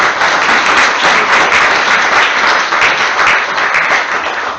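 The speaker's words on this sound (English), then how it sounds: "So, round of applause for Ms. Vivian, Honorable Vivian Larson." An audience at a school district board meeting applauds steadily, a dense, loud wash of many hands clapping with no talking over it.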